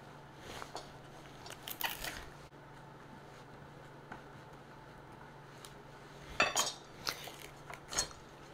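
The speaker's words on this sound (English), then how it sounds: "I'll cut them up a little bit, and then I'll mash them." Knife and fork work on bananas for a hummingbird cake, soft cutting and mashing with scattered clinks and scrapes of cutlery against a dish, fairly quiet with gaps between strokes.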